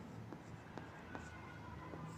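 Pen scratching on paper as a trigonometry step is written out, soft continuous strokes with a few sharper marks over steady background noise.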